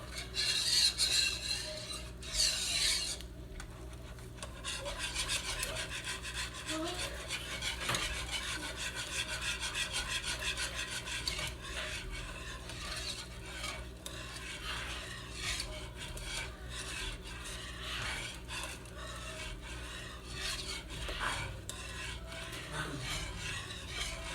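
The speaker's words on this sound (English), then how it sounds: "So we're gonna just whisk this." Cream of mushroom soup whisked in a pot on a stove that has been switched off, giving a continuous rubbing, scraping rhythm of the whisk against the pot bottom, close and steady, with a few clinks.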